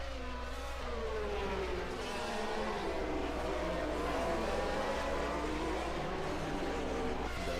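Formula 1 cars from the 1991 British Grand Prix pass by as a Ligier Lamborghini is lapped, a steady high engine whine with pitch sweeps over constant broadcast rumble.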